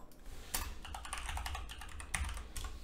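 Typing on a computer keyboard, a rapid run of close, crisp key clicks with a couple of louder taps, heard alone without talk.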